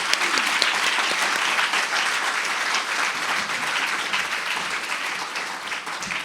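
Sustained, dense audience applause for the panelists at the close of a Nordic-Baltic cooperation seminar panel, steady and fairly loud throughout with no voices.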